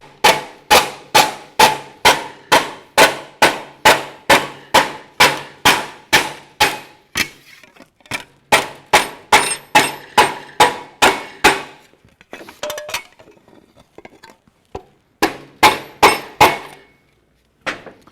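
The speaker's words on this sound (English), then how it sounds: "So you use this leather slapper, go back and forth" A leather slapper strikes an aluminum cafe racer motorcycle fender being shaped from scratch, a long run of sharp, evenly spaced smacks that loosen into irregular bursts, close and loud.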